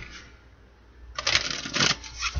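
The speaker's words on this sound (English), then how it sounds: "Two more shuffles." A deck of oracle cards is shuffled: quiet at first, then a close, crisp riffling flutter of cards in quick bursts lasting about a second.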